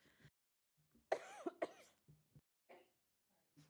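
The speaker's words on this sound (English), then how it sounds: "I thought I turned my microphone off to cough," A couple of sharp, close coughs in quick succession, followed by a few faint throat sounds and breaths in an otherwise quiet room.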